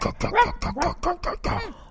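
A dog barks and yips in a rapid run of short, close barks with whimpering tones, about seven bursts in quick succession.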